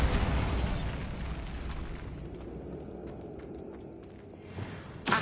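A Bombarda blasting spell detonates in Hogwarts Legacy with a loud, booming explosion at the start that rumbles and fades over several seconds.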